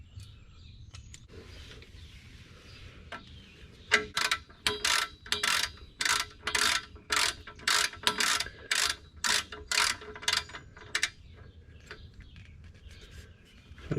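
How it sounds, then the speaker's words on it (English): A torque wrench tightens the oil drain plug on a 2016 Mazda CX-5, giving a run of about fifteen sharp, evenly spaced ratchet clicks close by, framed by quiet shop background before and after. "Got my torque wrench at 25."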